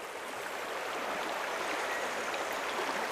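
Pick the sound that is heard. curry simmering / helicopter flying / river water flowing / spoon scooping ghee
river water flowing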